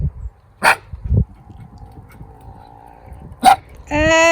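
A dog gives a few sharp, separate barks with quiet gaps between them, then lets out a drawn-out, high whine at the end.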